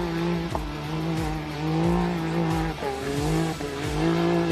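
Race cars running side by side through a corner at the Gundy 500 make a loud, continuous engine roar that rises and dips with repeated gear shifts and throttle changes. There is no talking.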